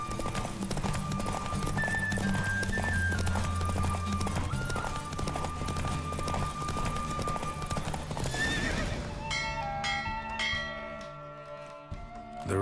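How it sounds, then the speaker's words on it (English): In The Witcher 3, a horse gallops through a race with rapid, steady hoofbeats under music. A loud neigh rings out near the end as the galloping continues. "Don't spare the horse!"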